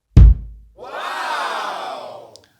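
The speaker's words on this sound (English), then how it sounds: "I did to both heads of this bass drum, and it sounds like this." Bass drum with both heads dampened by a feather pillow: a single short, thuddy low hit, followed by a softer sustained wash, heard alone.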